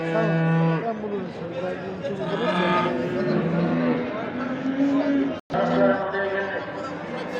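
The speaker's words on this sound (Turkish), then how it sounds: "Bu inek kimin acaba?" Cattle mooing repeatedly, loud and close, with a busy crowd chattering in the background at a noisy outdoor livestock market in Çorum, Turkey, in winter.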